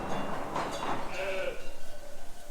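Lambs bleat in a sheep barn, with several overlapping cries through the first half before a steadier trailing call, mixed with busy barn background noise.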